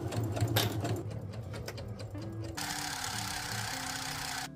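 A sewing machine hems a rolled fabric edge along a seam guide, running in a steady close whir that shifts pitch partway through and continues alone.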